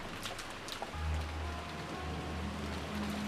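Steady rain falls in a soft, continuous hiss, a low hum running beneath it, with no voices and no other distinct sounds.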